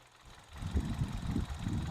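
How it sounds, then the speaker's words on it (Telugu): A Hyundai Venue petrol engine idles with a low, steady rumble close by, with a soft pulsing throb and no voices. "ఇంజన్ కూడా చాలా స్మూత్ ఉందండి"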